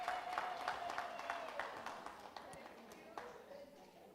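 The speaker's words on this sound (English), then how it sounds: "Please, round of applause to the team who pulled this together." A summit audience claps for the organising team, a fairly faint scatter of hand claps that thins out over a few seconds, with speech over the top.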